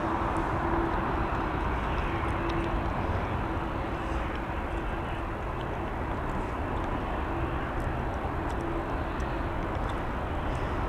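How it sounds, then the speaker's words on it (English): Airbus A330 arriving from Chicago and gliding in to land at Dublin Airport, a loud continuous jet engine roar that holds steady and close throughout. "A330 coming in from Chicago. We're going to pick that up because I do like the way these glide in"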